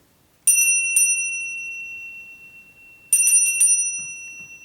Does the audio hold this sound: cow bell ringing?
yes